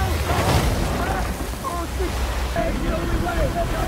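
Rushing river rapids in a jungle survival film, a steady broadband roar of churning water with wind, continuous throughout, with a voice talking over it.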